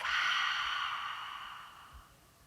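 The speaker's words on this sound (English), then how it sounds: "Exhale through the mouth." A single long, deep exhale through the mouth during a yoga relaxation, starting strong and slowly fading over a couple of seconds, close and alone.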